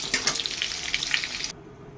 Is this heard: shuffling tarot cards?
no